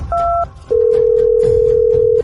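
Cartoon telephone dialing: a short two-tone burst, then a long steady ringback tone for about a second and a half, loud and clear with no talk over it.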